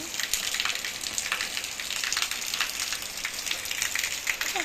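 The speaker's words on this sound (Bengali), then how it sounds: "এত পরিমাণে বৃষ্টি হচ্ছে" Heavy rain pours steadily in a dense, even hiss, close and continuous, with scattered louder drops and no voices.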